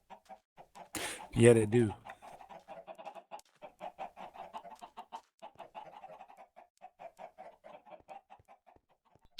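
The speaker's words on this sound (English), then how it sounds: "Boy, these chickens sure pump the eggs out, don't they?" Chickens cluck in the Minecraft video game, a steady run of short, soft, quiet clucks spread across the whole stretch, with a brief spoken reply breaking in near the start.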